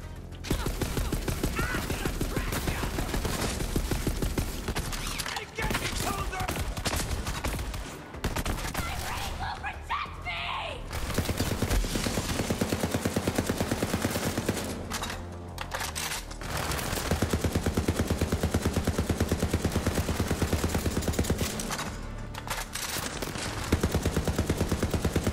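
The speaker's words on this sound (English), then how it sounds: "Definitely need crits with the submachine gun for it to be worth it." Submachine gun fire from Borderlands 3 rattles almost nonstop in rapid bursts, loud and close, with a few brief pauses between volleys.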